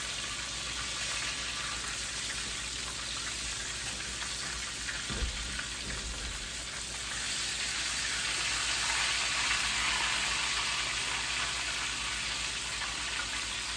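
Chicken pieces frying in hot oil, a steady close hiss and crackle of sizzling that swells a little louder partway through, with a couple of faint low knocks and no talking.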